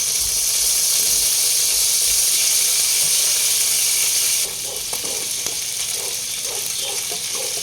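Onion, ginger and chicken feet sizzle steadily in a hot pan, a loud continuous frying hiss that drops slightly partway through as scattered crackles and pops come through.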